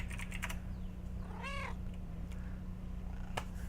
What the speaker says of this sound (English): Oh, when you press dance, he brings out Mr. Bigglesworth, his cat.